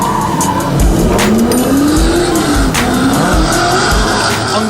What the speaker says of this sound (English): US driver and second place qualifier Matt Powers was next to hit the tarmac in the semi-finals.